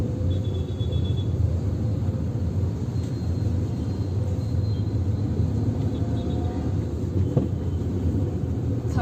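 A car engine runs in second gear in night city traffic, a steady low rumble with road noise continuing without break, with no voices over it.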